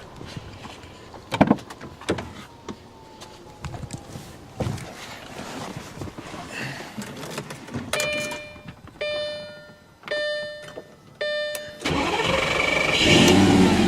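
A Lamborghini is started after a new battery is fitted. A few clicks and chimes come first, then a sustained loud mechanical roar in the final seconds.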